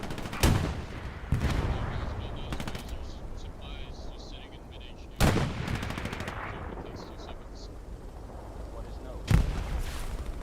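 Self-propelled artillery fires in the Hell Let Loose game: four sharp, heavy booms spaced several seconds apart, each with a fading tail, over a steady battlefield background.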